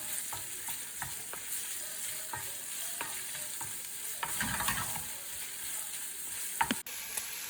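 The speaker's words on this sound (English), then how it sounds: "I love the sound of anything cooking on the stove pretty much" Food sizzling and frying in a pan, a steady soft hiss with occasional stirring clicks and scrapes, fairly quiet and close.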